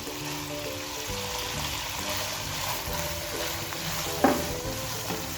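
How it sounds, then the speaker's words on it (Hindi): Sliced onions fry with chicken in a pan for fried noodles, giving a steady, loud sizzle with spatula stirring and one sharp scrape near the end, faint background music under it. "प्याज डाल के 1 मिनट के लिए इसको भी फ्राई कर लेंगे।"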